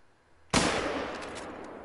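A rifle fires while hunting in the video game theHunter: Call of the Wild, giving one loud, sudden blast that rolls into a long, sustained echoing rumble, with no talking.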